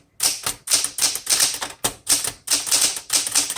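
Rapid key strikes on a 1969 Smith Corona Classic 12 manual typewriter, loud and close, clacking in quick bursts with brief pauses between groups of keystrokes.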